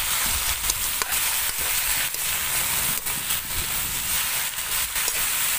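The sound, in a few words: soy sauce poured into duck adobo frying in pan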